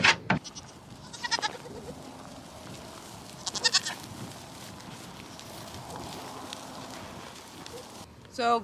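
Goats bleat a few times in short, spaced-out calls, with low rustling and murmuring in between.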